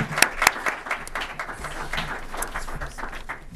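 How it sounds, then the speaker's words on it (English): Applause from the audience at a town candidates' night for school committee, a modest crowd clapping with a few sharp, close individual claps near the start before the sound settles into a thinner, uneven patter. "Let's give them a round of applause."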